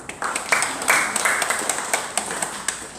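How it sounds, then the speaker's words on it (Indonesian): A small group of students at a museum gives scattered applause for a girl named Liza, with a few distinct sharp claps standing out over a brief, modest patter. "Tepuk tangan untuk Liza."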